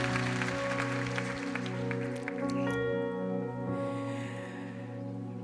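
A church congregation claps through sustained worship keyboard music. The applause is dense and fades out about halfway, while the music carries on alone.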